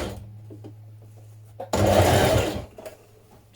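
A domestic sewing machine top stitches the binding on a sleeveless Burda 6527 blouse: a quiet idle hum with faint clicks, then a loud, fast whirring run of about a second before it stops.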